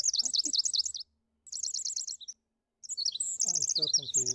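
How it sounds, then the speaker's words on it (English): Birds in the fishing video game Russian Fishing 4 chirp loudly in rapid repeated high tweets, coming in three bursts separated by short silences, with a lower warbling call joining the last burst. "Why are these birds so loud?"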